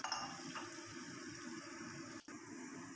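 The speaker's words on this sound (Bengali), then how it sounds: "আর দেখো, এবারে দিয়ে দেবো জল।" Water poured from a vessel into a pan of sautéed vegetables and tomatoes for khichuri, a steady close liquid rush with faint clinks, briefly dipping near the end.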